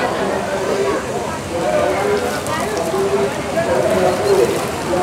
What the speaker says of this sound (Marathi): थोडा जोरातच पाऊस आला आहे.